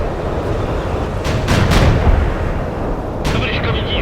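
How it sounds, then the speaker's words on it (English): Medium armor tanks firing in World in Conflict, a few booming cannon shots around the middle and near the end over a steady rumble of battle noise, with radio-style unit voices speaking throughout. "Medium armor, firing at the enemy."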